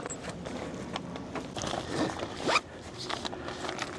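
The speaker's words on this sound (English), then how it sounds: "this comes with a zipper here on the side" Zipper on the side of a dog car seat cover for a car back seat, pulled in a few quick scraping strokes up close, one sharper rip near the end.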